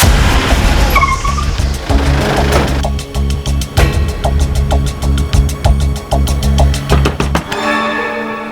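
A car pulling away with its tyres skidding, loud and close, a sustained engine drone with a rhythmic, ringing tyre squeal building and pulsing throughout.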